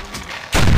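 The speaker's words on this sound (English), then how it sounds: "Is that what made that explosion with like the car?" Low rumbling video game explosion involving a car erupts suddenly after a quiet moment, a heavy booming blast that keeps roaring to the end.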